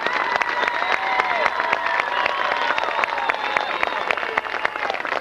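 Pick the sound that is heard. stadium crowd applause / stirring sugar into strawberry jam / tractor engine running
stadium crowd applause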